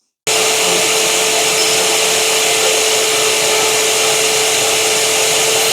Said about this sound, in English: let's get a piece of tube cut using my new bandsaw